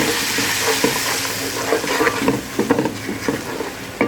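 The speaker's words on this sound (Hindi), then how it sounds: "अब हमने इसको 2 मिनट भूनना है" Masala spices roasting in a hot pan for Punjabi kadhi pakora, a loud continuous sizzle broken by scraping strokes of a stirring spoon that grow more frequent toward the end.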